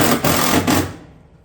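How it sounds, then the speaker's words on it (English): A fastener being driven into a metal roof panel at a chimney on tile battens: one loud, buzzy mechanical burst of about a second that quickly fades away. "then we can go ahead and fasten this off as normal"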